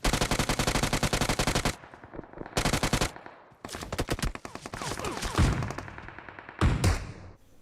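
Rapid automatic UMP submachine gun fire in the PUBG battle royale game, loud close bursts of shots separated by brief pauses, with a few scattered single shots and other game noise between.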